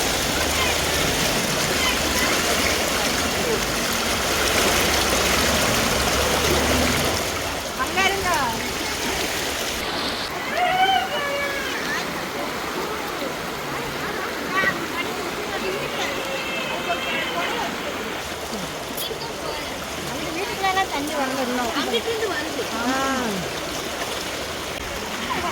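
Floodwater rushing through a street in Virudhunagar after prolonged heavy rain, a steady broadband wash of flowing water throughout, with people talking over it and occasional splashes near the middle.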